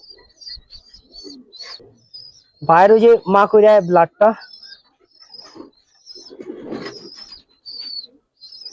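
Pigeons in a Giribaz pigeon loft give soft, intermittent coos and chirps across the scene, while someone talks loudly in short bursts in the middle and near the end.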